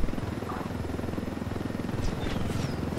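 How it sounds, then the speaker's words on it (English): A helicopter in Ghost Recon Wildlands gives off a steady, rapid rotor thump with a whining buzz, close and continuous, and no one talks over it. "Oh, somebody grabbed the helicopter?"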